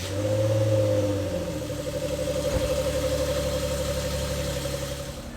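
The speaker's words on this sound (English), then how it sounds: "We'll get the car out of the shop here" An Infiniti Q50 pulling out of a shop, its engine revving briefly at first and then settling into a steady, close mid-pitched drone with a single dull thump partway through.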